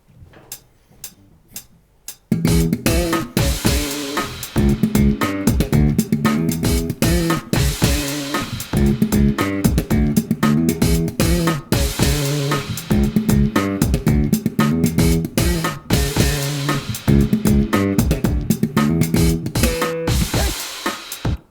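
Funky slap bass riff with sharp percussive pops and thumbs, syncopated and loud, played alone after a few quiet ticks at the start.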